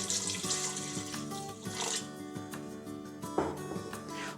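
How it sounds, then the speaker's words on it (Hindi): Two glasses of water pour into a pressure cooker of beef for shami kabab, a steady close splashing gush lasting several seconds under soft background music. "साथ ही मैं इसमें 2 गिलास पानी के डालूँगी"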